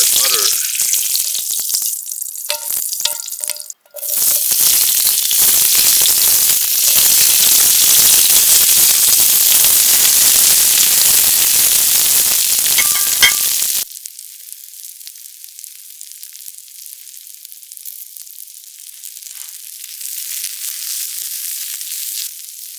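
Ghee sizzles loudly in a pan over a Picogrill wood-burning stove, a steady bright frying hiss for about 14 seconds with a brief clatter near the start, then dropping to a softer, quieter sizzle.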